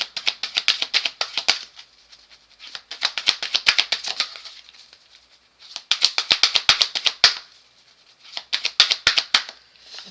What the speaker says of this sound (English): The way that I'm shuffling these cards is telling me